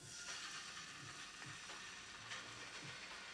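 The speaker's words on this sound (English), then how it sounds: "We're gonna fry up this chunjang." Chunjang, Korean black bean paste, frying in hot oil in a pan for jjajangmyeon, giving a steady close sizzle with soft crackles and occasional scraping stirs, no talking.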